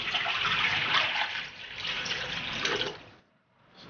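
Clean water pours steadily into a cooking pot for a beef offal hot pot, a loud, continuous splashing rush that stops abruptly near the end, followed by a moment of quiet and a faint trickle.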